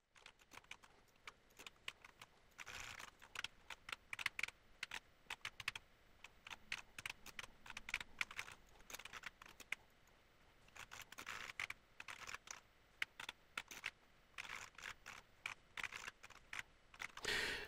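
Rapid, uneven bursts of keystrokes on a computer keyboard while coding a Pico-8 roguelike game, close and fairly quiet, with short pauses between flurries of typing and no talking.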